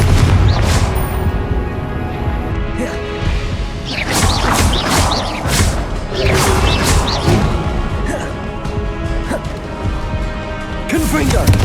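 Repeated Confringo fire-spell blasts in a Hogwarts Legacy boss battle: a string of sharp crashing booms and whooshes over a dense bed of game music and effects, with a voice speaking between some of the impacts.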